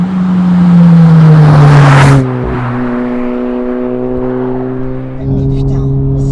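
A Honda Civic Type R (FL5) engine revs hard and climbs in pitch, then drops to a lower steady drone after a gear change before picking up again; loud and close.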